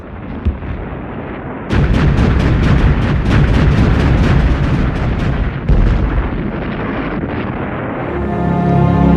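Massed German artillery and mortars bombard a 70 km stretch of the World War I Western Front in a dense, loud, continuous barrage of overlapping booms and blasts that rolls on for seconds before swelling and thinning.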